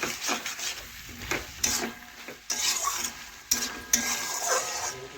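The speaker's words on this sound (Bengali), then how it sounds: "এইভাবে একটু নাড়াচাড়া করে কষিয়ে নিলাম।" Vegetables being stirred and sautéed in their own moisture in a pan for a vegetarian dish made with biuli dal flour, with repeated close scraping and clattering strokes over a soft steady sizzle, no voices.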